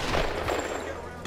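Gunfire in Tomb Raider, a dense flurry of overlapping shots and impacts at steady loudness, the firing continuing throughout with a sharper hit near the end.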